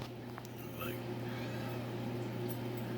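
A house cat gives a faint, short meow over a steady low hum of aquarium equipment in a room.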